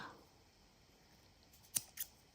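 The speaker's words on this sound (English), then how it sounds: "this time I'm going to cut off the ends" Scissors cutting off the ends of a paper bead dangle, two quick crisp snips near the end, close and clear against a quiet background.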